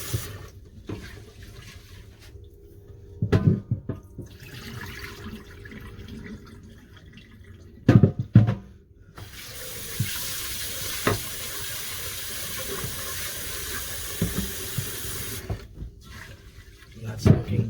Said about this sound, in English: you want to wash this until the water runs clear, usually 3 to 4 rounds.